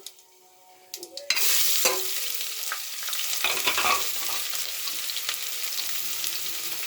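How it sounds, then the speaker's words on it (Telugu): Chopped onions hit hot oil with dried red chillies and burst into a loud, close sizzle, which settles into steady frying with occasional stirring scrapes and no voices. "ఎండుమిర్చి, ఇప్పుడు ఆనియన్స్ వేసుకుందాం"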